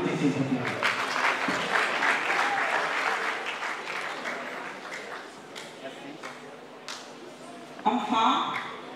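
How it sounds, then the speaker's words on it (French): An audience at a debate competition final's award ceremony applauds warmly. The clapping is sustained at first and tapers off, with a brief burst of clapping near the end. "On applaudit ces gens."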